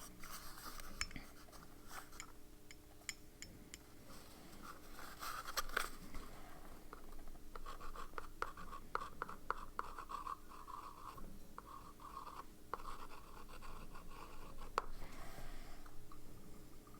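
A fountain pen with Birmingham Pen Company Crisp ink scratches softly across paper in short, irregular strokes, close and faint, with no talking.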